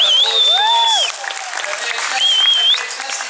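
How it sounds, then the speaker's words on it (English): A zoo audience at Dreamworld's Tiger Island in Australia applauds Baru the tiger after a tree climb. The loud, steady clapping is joined by a few rising and falling whistles. "Let's give Baru a big round of applause"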